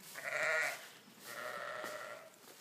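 Ewes in a lambing shed, two drawn-out bleats in a row, moderately close and clear against a quiet background.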